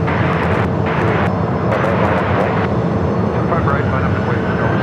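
A jet airliner takes off from runway 25 right at Phoenix Sky Harbor airport, a loud, sustained engine roar with a rising whine, while radio voices talk over it.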